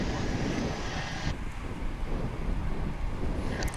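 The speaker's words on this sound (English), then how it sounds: "It's an Airbus A220-100." Delta Airbus A220-100 jet heard as a steady, broad roar mixed with wind buffeting on the microphone, continuous and fairly loud throughout the short stretch at a busy international airport.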